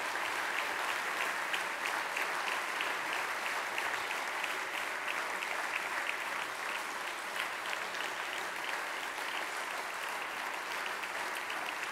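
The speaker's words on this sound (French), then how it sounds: "C'est pas moi que vous applaudissez" An audience applauds after a reading of Jean d'Ormesson's work, steady dense clapping that holds at an even level throughout, with no voices over it.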